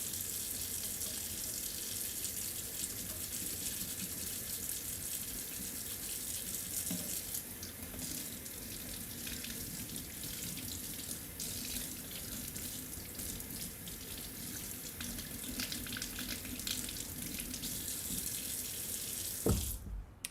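A kitchen tap runs steadily and fairly loudly for about twenty seconds while parts of a Brandenburg C-2 trumpet are washed, ending with a brief clunk.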